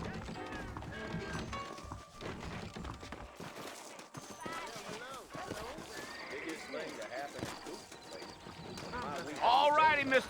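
Horses' hooves clip-clopping in the video game Red Dead Redemption, a steady trot of hoofbeats under talking voices, with a horse's whinny near the end.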